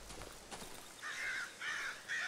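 Crows cawing in the video game Darkwood: three drawn-out, harsh caws in steady succession, clear over a faint background.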